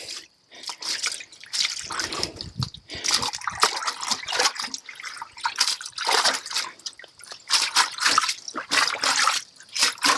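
Water splashing and dripping as retted flax is washed to loosen and separate its fibers, with dense irregular splatters and trickles continuing close by for the whole stretch.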